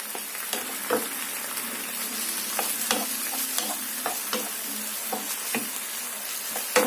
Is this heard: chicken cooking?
yes